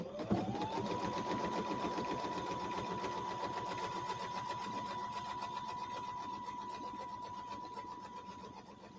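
Embroidery-style sewing machine stitching a quilt border, a fast continuous needle rattle with a steady motor whine, close and even throughout, no speech.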